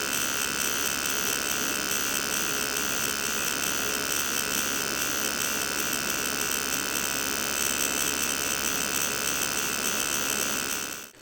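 Tattoo machine with a round liner needle buzzing steadily as it works fine details into human skin, a close, continuous high-pitched electric whine with faint rhythmic texture and no talking.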